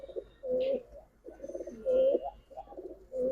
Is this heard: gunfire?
no